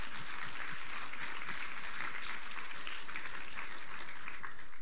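A seated audience gives steady, sustained applause in honor of Rod Foster at a fall final presentation, dense and even throughout with no voices over it.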